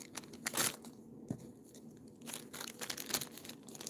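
An old plastic bag used to pack away chains crinkles and rustles in soft, uneven bursts, handled up close in a quiet room.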